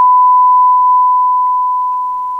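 A steady 1 kHz sine test tone from a signal generator output on a workbench, loud, pure and unbroken, holding at one pitch throughout and fading slightly toward the end.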